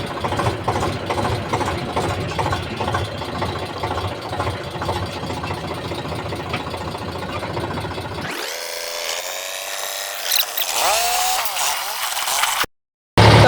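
A tractor engine runs steadily with a chugging, knocking idle for about eight seconds, then drops away into other noise; no talk over it.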